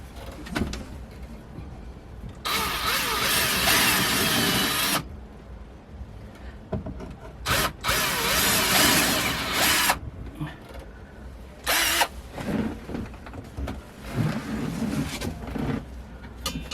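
A power drill boring holes through a drill block during a mast compression repair on a Columbia 22 sailboat, with several loud whirring bursts of a few seconds each separated by quieter handling noises.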